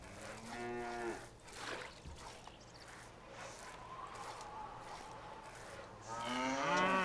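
Cattle mooing in the medieval castle-building game Stronghold (2001) as farmers milk them: two drawn-out, fairly loud moos, one at the start and one at the end, with soft farmyard ambience and faint squishy footsteps between.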